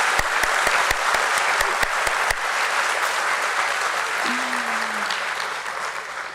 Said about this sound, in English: a huge round of applause for DOMS Industries Limited once again.